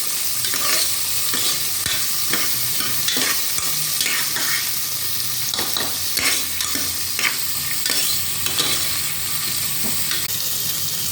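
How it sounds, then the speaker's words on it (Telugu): Onions and green chillies fry and sizzle in oil inside a pressure cooker, with steady crackling and repeated stirring scrapes against the pot, close up and without talk. "కుక్కర్ పెట్టుకొని ఇందులో ఆయిల్ వేసుకోవాలి ఆనియన్స్ పచ్చిమిర్చి వేసుకోవాలి బాగా వేయించుకోవాలి"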